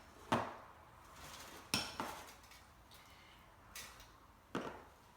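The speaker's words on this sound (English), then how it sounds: "we're going to stir that up and coat the fish with it" A utensil clinks against a dish while fish seasoned with cumin, cayenne and oregano is stirred to coat it: four separate sharp knocks spaced a second or more apart over a quiet background.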